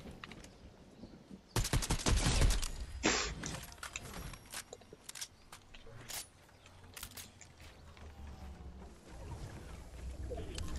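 Fortnite gunfire, with a dense burst of rapid automatic shots that then thins out into scattered single cracks and bursts over a background of game ambience.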